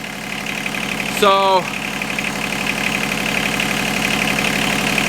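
A boat engine idles steadily after a head gasket change, a close, even mechanical rumble that continues throughout, with a brief spoken word near the start.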